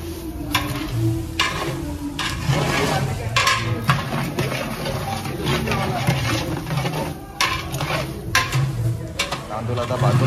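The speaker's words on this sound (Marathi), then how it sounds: "तांदूळ आता भाजून होते घीमध्ये." Rice roasting and being stirred in ghee in a large pot for kheer at a Mahashivratri community feast, giving steady sizzling with repeated scraping stir strokes under background chatter and crowd noise.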